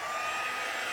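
A heat gun for crafts blows a steady, even whoosh while drying a wet paper Stampin' Up! card, close and constant with no talking.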